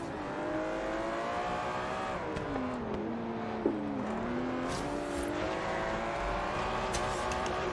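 Aston Martin V12 Zagato racing in Forza Horizon 3, its engine note rising and falling through gear changes and revs, steady and fairly quiet throughout.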